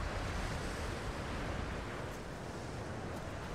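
Wind blows over ocean waves outdoors in the video game Tomb Raider, a steady, loud, broadband rush of surf and gusts that barely shifts throughout, with no talk.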